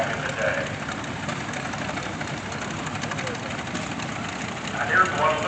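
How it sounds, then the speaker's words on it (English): A 1966 Farmall tractor, the first turbocharged Farmall model, idling at a steam and gas association parade, a steady low rumbling engine drone throughout, moderately loud, with crowd noise and voices nearby. "this is the first farmhall tractor that was turbocharged back in the day"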